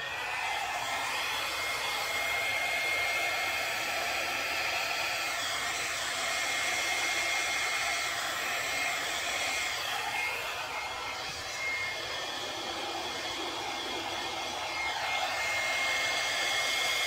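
Hair dryer blowing steadily on acrylic paint during a Dutch pour, a continuous close whooshing roar lasting throughout with slight shifts in pitch, no talking.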